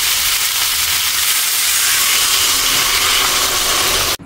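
Water poured into a pan of sautéed vegetables and spices sets off a loud, continuous, broadband sizzle and steamy hiss that holds steady, then cuts off at the very end.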